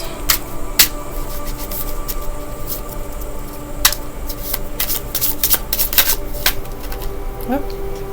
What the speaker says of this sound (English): shuffle those a couple more times.